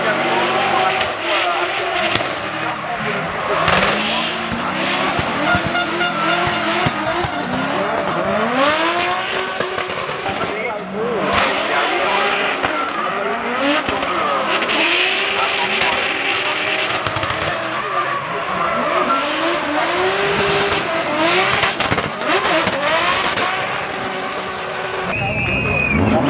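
Drift cars at a drift competition in Calmont, loud engines revving and tires squealing in long repeated skids throughout, with a commentator's voice talking continuously over the noise.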